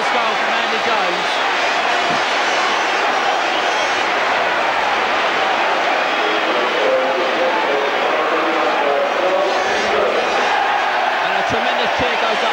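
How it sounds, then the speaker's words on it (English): A football crowd at a Charlton Athletic v Tottenham Hotspur match in 1988/89 roars and cheers after a goal, a loud, steady wall of noise with a commentator talking over it. "And a tremendous cheer goes up around amongst the Charlton supporters."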